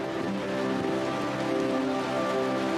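Heavy torrential rain pours steadily in the African wild, a dense, even roar of drops hitting the ground and surfaces, loud and continuous with no voices.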